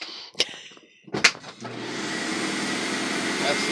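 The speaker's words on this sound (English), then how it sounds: "Are you going to sell me this vacuum without turning it on?" A German-made vacuum cleaner switches on after a couple of clicks and runs steadily with a loud, close whine, preceded by brief talk.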